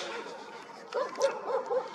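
Dogs bark outdoors on a December evening, a few muffled yips and woofs at a moderate distance, spaced about a quarter second apart over low background noise.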